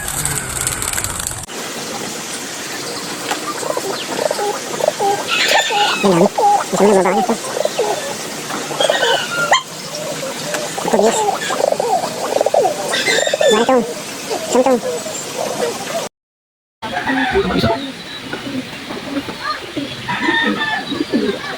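Chickens and other fowl cluck and call over a busy, noisy background, with people talking intermittently nearby.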